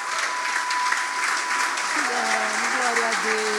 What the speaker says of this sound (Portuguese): Vamos aplaudir bem forte a Jesus pela vida dele.